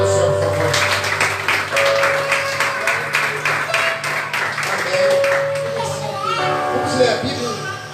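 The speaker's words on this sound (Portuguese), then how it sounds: "Aplauda o nome do Senhor, por favor." Congregation applause in a church service, a steady wash of clapping from many hands sustained throughout, with music or tones and voices underneath.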